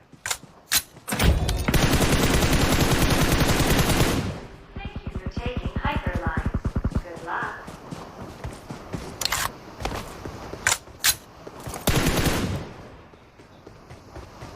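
Video game firefight with a Tesla car blown up: rapid bursts of automatic gunfire and a sustained blast roar, followed by scattered single shots and further bursts, with players talking in between.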